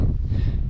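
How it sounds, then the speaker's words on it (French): Strong wind buffets the microphone on a mountainside in light rain, a loud, steady rumbling gust with no pause and no voices. "sous un vent violent et un peu de pluie"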